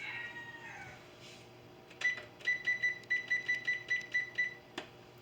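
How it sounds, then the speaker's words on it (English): A kitchen timer is wound and set for about ten minutes while broccoli cooks on low, giving a quick run of bright, evenly spaced clicking ticks after a soft rustle, close and fairly loud. "I'm going to go ahead and set the timer so I don't forget about it."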